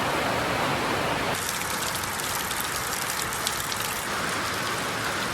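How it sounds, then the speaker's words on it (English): Heavy rain pouring down in a loud, steady, unbroken roar, close and constant throughout. "It's a monsoon out there."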